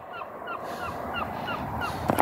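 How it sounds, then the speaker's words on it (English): A Canada goose honks repeatedly in a steady series of nasal calls, moderately distant over a cold outdoor background hiss, with a louder, closer honk near the end. "Canadian goose."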